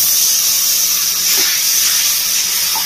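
Water poured onto frying spice masala for chicken curry bursts into a loud, steady steam hiss and sizzle close by, holding for a few seconds.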